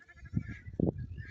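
Goats on a farm, penned in a yard, bleat in two short bursts, the second louder and more nasal, with low background rumble between calls.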